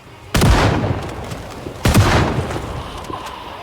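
Two loud gunshots ring out in the zombie survival game Project Zomboid, sharp close blasts about a second and a half apart, each trailing off into a short echoing tail, with no talk over them.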